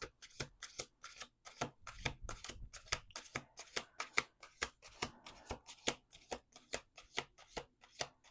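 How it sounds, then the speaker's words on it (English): Tarot cards are shuffled over and over, a rapid series of crisp riffling bursts in a steady rhythm, close up and with no talking. "Let's do 1 more shuffle"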